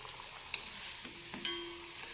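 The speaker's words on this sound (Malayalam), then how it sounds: "അപ്പോൾ ഇതുപോലെ എല്ലാം വറുത്ത് കോരിയെടുക്കാം." Sweet potato pieces frying in oil, a faint steady sizzle with a couple of light clicks from a stirring utensil, nearby and quiet with no speech.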